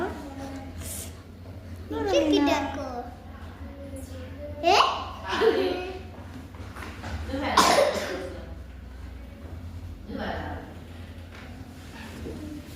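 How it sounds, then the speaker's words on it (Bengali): A young girl coughs repeatedly at close range in short bursts, with a few harsher hacking fits between quieter breaths, and an adult voice is heard nearby. "অনেক বেশি কাশতেছে"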